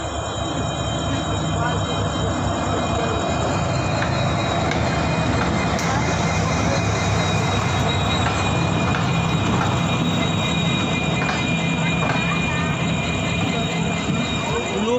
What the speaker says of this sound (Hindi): देखिए कोई ट्रेन प्लेटफॉर्म नंबर 2 पे आ रही है।